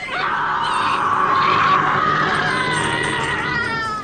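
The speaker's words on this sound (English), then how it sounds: "The screams that she was making were so real that you felt the sound" A woman screams in an American horror film: one long, shrill, unbroken cry that stays loud and close for about four seconds, with no talking over it.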